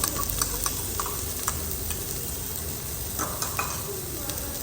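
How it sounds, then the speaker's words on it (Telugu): Onion frying in oil with cumin and mustard seeds for an eggplant masala makes a close, steady sizzle with small crackles and light stirring scrapes. "తర్వాత వచ్చేసి ఆనియన్ కూడా వేస్తున్నాను."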